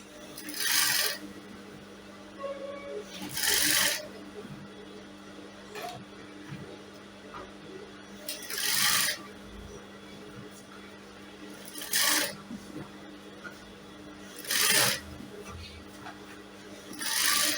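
Hand stitching through fabric while sewing transparent boning with a skin effect: soft, close rasping pulls of thread come in separate bursts every few seconds, with quiet handling noises between them.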